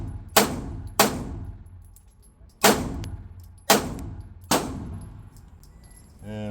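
Five loud, sharp pistol shots from an LFA Apollo 11, a 2011-style handgun, fired at uneven intervals of roughly one second, each cracking and ringing briefly before fading, with a short rattling clatter at the very end.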